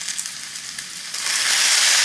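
Soy sauce poured into a hot wok of stir-fried vegetables for Chinese chicken noodles, a soft frying hiss that swells into a loud, bright sizzle near the end, with no talking.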